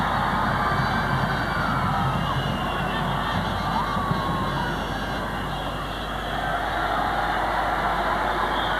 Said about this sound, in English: receiving applause from the Colombian supporters